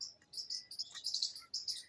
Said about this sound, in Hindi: यहाँ पे चूचू लगी रहती है चिड़ियों की